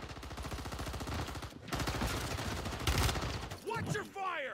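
Call of Duty gunfire in a ranked Rebirth Island match: a dense, rapid automatic burst rattles continuously for most of the clip, ending in a few sharper separate shots with ricochet-like whines.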